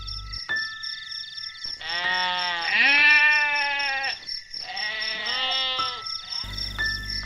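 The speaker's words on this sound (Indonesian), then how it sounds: "tiba-tiba terdengar suara kambing" Loud, close goat bleats at night, two long wavering calls with a short gap between them and a brief tonal cry at the start and end.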